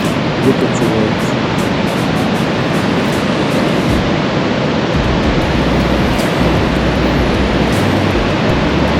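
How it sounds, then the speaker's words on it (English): Ocean waves crash steadily onto a rocky shore at low tide in Far North New Zealand, a loud continuous roar of surf and spray with no pauses and no talk. "Look at the waves."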